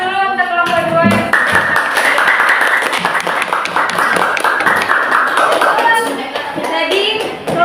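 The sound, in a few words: class applause for group 2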